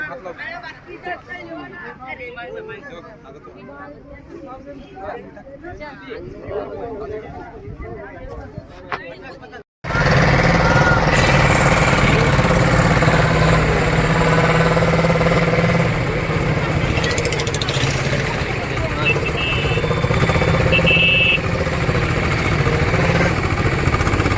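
A fishing trawler's engine runs with a loud, steady mechanical drone that cuts in abruptly partway through and holds constant, with people talking amid the noise.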